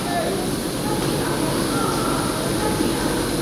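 Ranchi Hatia Express train at Ranchi station, a loud continuous rumble with faint voices in the background.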